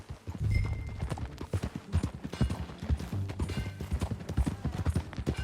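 Horse hooves clip-clop in a quick, steady rhythm close by in the video game Red Dead Redemption 2, with a low rumble underneath and a brief snort early on.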